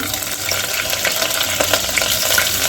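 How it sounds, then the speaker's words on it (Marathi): Curry leaves and green chillies hit hot oil for masale bhat, giving a loud, dense crackling sizzle that holds steady for a few seconds with no voices. "आता यामध्ये कढीपत्ता मिरच्या"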